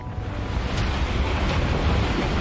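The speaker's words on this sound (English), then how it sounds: "There's the flash flood." Flash flood water rushes into a store in a continuous, loud, roaring torrent with no break, heard on its own without voices.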